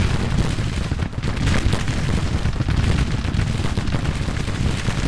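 A dense, continuous roar of booming artillery and musket fire from a Civil War battlefield in Grand Tactician: The Civil War, loud and layered with overlapping blasts and no clear pauses.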